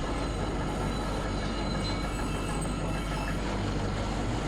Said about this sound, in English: This tram isn't going anywhere any further.